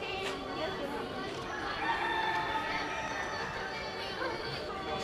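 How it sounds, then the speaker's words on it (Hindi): A rooster crows near the Batu Caves temple in Kuala Lumpur, its call faint and distant within a busy outdoor ambience of crowd murmur and background noise. "ये यहाँ पे मुर्गे की आवाज़ कहाँ से आती हुई"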